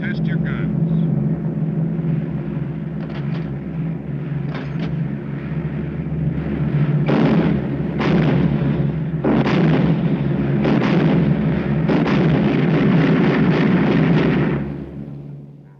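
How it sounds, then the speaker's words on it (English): Gunners on a WW2 bomber test-fire their machine guns shortly after leaving the English coast in the 1949 film Twelve O'Clock High. Several bursts of gunfire break out over a constant drone of aircraft engines, and voices come over the intercom. "Okay to test your guns."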